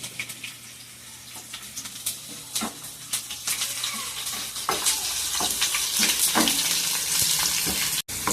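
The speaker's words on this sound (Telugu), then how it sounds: "ఎండుమిర్చి, ఉల్లిపాయలు, కరివేపాకు అన్నీ చక్కగా ఏగాలి." Dried red chilies, small onions and curry leaves fry in hot oil for a tempering, a steady close sizzle with occasional sharp crackles and spoon strokes, growing slightly louder toward the end.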